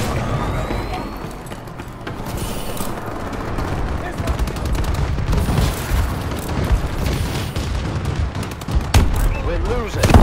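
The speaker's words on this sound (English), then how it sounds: "Enemy bombing run overhead." Dense video game combat from Advanced Warfare, with continuous gunfire and booming blasts from an enemy bombing run overhead, loud and chaotic throughout under in-game radio voices.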